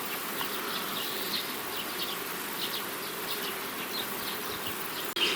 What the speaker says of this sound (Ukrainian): Бджола вся наверху. Традиційно вона літає наверху.